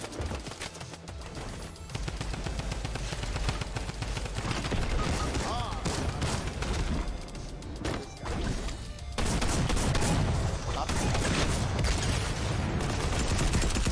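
Rapid bursts of gunfire from a Fortnite battle on the Chapter 3 map with classic weapons, dense and loud volleys running almost continuously, with voices talking over the shooting.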